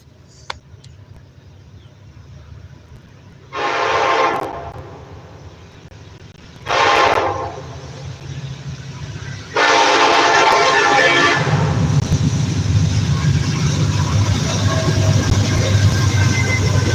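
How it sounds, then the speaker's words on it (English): A freight train sounds its horn in two short blasts, then a long sustained one, loud and fairly close, as the rumble of the passing train swells and continues underneath. "The freight train."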